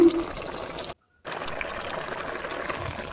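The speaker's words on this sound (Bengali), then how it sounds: "একটুখানি জল দিই, আর কিছুই না।" A splash of water is poured into a pot of taro leaves set to boil over a hot wood-fired clay stove, a steady watery wash broken by a short silent gap.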